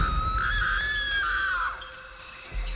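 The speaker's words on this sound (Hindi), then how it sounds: "जो उसने देखा, उसे देखकर वो जोर से चीख पड़ी।" A woman lets out a single loud, high-pitched scream in a horror story. It rises, holds for about a second and a half, then falls away, with no talking around it.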